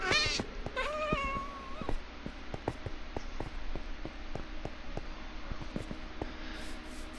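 A cat meows in the Minecraft video game, with a rising, drawn-out call near the start. A steady rhythm of short, sharp clicks and soft game ambience follows and runs to the end. No one speaks.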